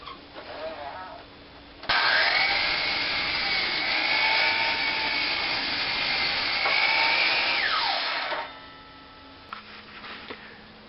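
A Ridgid miter saw on its stand cuts lumber for a garden raised bed, the motor whining up sharply and holding a loud steady roar for about six seconds before spinning down, with quieter shop noise around it.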